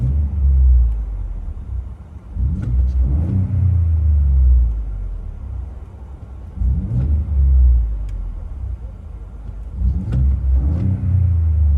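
A 2020 Ford F-150 with a 3.5L EcoBoost V6 and Gibson exhaust, heard from inside the cab, revs loudly several times: deep rumbling swells rise and fall over a steady idle drone.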